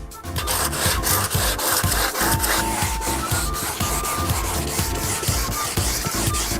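Sandpaper of about 400 grit rubs steadily back and forth over a large-flake painted motorbike panel, a dense rasping scrub with rhythmic strokes, close and continuous without talk.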